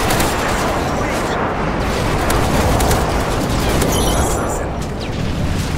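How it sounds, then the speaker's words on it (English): Airstrike explosions boom in a military shooter video game as a dense, continuous roar of blasts and gunfire that stays loud and unbroken throughout. "big airstrike on the way."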